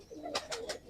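A pigeon coos in low, rounded notes among a fancier's Amritsari birds, including a female, the call rising in a short phrase over sharp, airy high bursts, fairly close with no talk.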